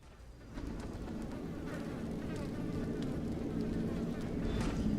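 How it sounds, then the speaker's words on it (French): Small flies buzzing in Dishonored: Death of the Outsider near a mountain peak, a steady, close insect drone that swells slightly over an ambient game backdrop. "Déjà le bruit des petites mouches."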